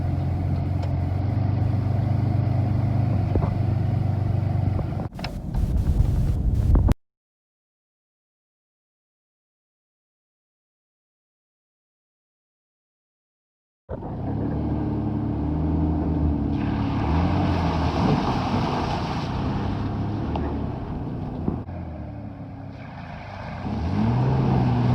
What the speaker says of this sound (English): About as far as I can drive this truck